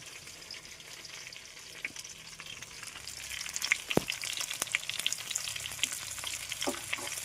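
Spices sizzling in hot oil in a pan after turmeric goes in, a continuous close frying hiss with scattered crackles and a few stirring scrapes, no one speaking.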